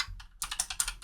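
Rapid clicking keystrokes on a computer keyboard, close and fairly loud, in an irregular burst of taps with a short pause near the start and no talking.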